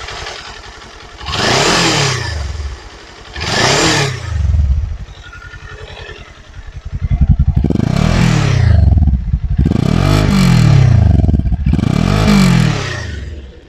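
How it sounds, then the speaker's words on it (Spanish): Kawasaki Ninja 400 motorcycle with a Leo Vince LV-10 slip-on exhaust, revved in loud, repeated throttle blips that rise and fall over an idling engine, with several sharp bursts close by. "Ahora vamos a proceder a acelerarlo un poco."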